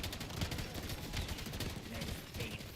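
Gunfire against zombies in Black Ops 7 Zombies, faint continuous rapid shots blended with game noise, steady and somewhat muffled throughout.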